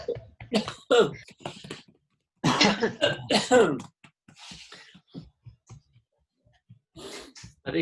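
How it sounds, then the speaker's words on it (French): A person coughs in several harsh bursts, with throaty clearing and breaths between them, close up, followed by quieter rustling and a final cough. "Tapotez et toussez."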